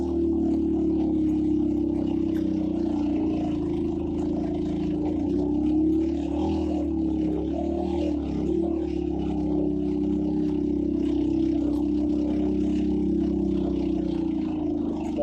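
Motorbike engine held at steady revs with the clutch partly pressed while climbing a steep rocky mountain road to Shandur Top in northern Pakistan: a continuous, loud, droning hum with slight wavering throughout.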